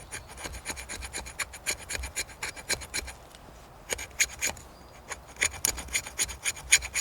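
The back of a knife scrapes birch bark or fatwood for winter fire tinder. The strokes come as rapid, rhythmic raspy scratches, close and fairly quiet, with a brief pause midway and no talking.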